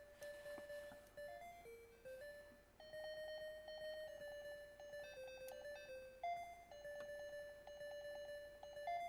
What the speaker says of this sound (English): we have a beeper tune of, yeah. It's Jetpack.